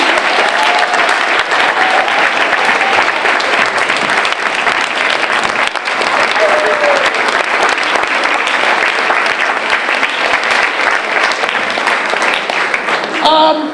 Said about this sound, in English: Can we get one more round of applause for Taylor?